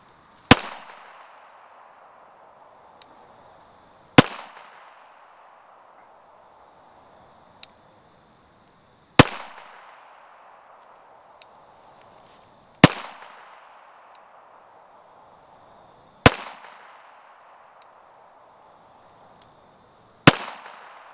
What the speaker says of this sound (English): So we're fixing to see if it'll stop everything I shoot.